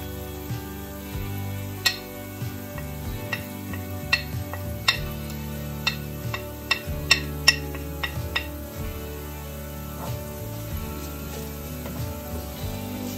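A spoon stirs cherry pickle frying in a pan, giving repeated clinks and scrapes against the metal over a soft sizzle, set against a steady hum of background.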